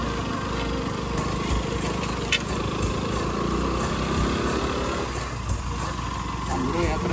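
Motorcycle engine droning steadily while riding a gently sloping road toward Gorkha in Nepal, a continuous close rumble with wind noise and a brief sharp knock partway through.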